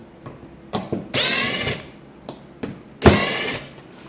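A power drill backs screws out of a riveted cabinet door in short whirring bursts, two longer runs separated by brief taps and clicks, close up in a workshop with no talking.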